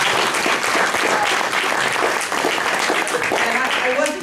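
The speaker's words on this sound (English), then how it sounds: "so give her a round of applause" An audience at a poverty briefing applauds a guest, with thick continuous clapping at even loudness from start to finish.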